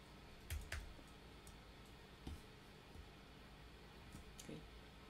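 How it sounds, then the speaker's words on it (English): Faint, scattered computer keyboard typing and mouse clicks at a desk while modeling architectural site context in Rhino, with a few isolated taps spread out between quieter pauses. "click on one side and click on the other side for reference and type"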